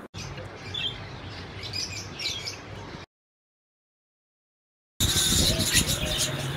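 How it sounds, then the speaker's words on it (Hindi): Lovebirds at a bird market chirp in a busy, overlapping chatter of high tweets with a short gap of silence before the chirping resumes louder. "देखते हैं कि कौन कौन से लव बर्ड मौजूद हैं"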